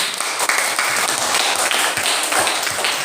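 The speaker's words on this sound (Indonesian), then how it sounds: "Tepuk tangan." A classroom of students clapping together in a dense, continuous patter of hands lasting a few seconds, loud and close with no pauses.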